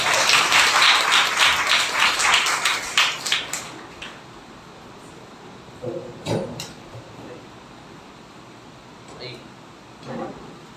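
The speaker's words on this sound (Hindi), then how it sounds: "परमेश्वर के लिए और परमेश्वर के सेवक के लिए ताली बजाएंगे जोरदार" A church congregation at a Sunday service breaks into loud applause that lasts a few seconds and then fades out, followed by quieter room sounds and a few brief voices.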